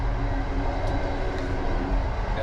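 A first-class train from Poznań to Warsaw runs with its windows open, giving a loud, steady roar of wheels and rushing air that continues unbroken throughout.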